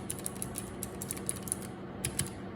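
Keys clack on a custom-built Helix keyboard fitted with blue MX switches, a brisk, irregular run of crisp clicky presses, close and fairly quiet, with a short pause before a final few strokes.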